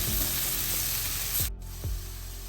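A paneer and vegetable filling for stuffed roti sautés in oil, hissing and sizzling steadily up close, with a brief break midway and a few soft low knocks from stirring.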